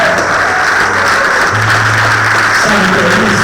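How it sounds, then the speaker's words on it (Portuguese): Congregation applauding in a church service, a steady dense wash of clapping with a low sustained tone underneath, continuous for a few seconds. "Você pode dar um forte aplauso ao Senhor."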